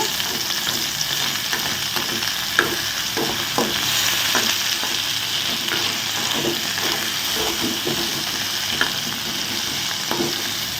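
Potatoes frying in a pan with a constant sizzle, punctuated by repeated scraping clicks of a spoon stirring them, close and steady throughout.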